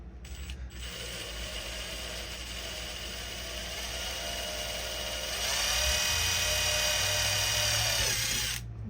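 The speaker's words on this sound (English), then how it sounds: "Drill doesn't sound very healthy there." A power drill bores holes through the steel body of a sedan rat rod, a loud close continuous grinding whine with a rough, ratcheting edge that rises in pitch and intensity midway through.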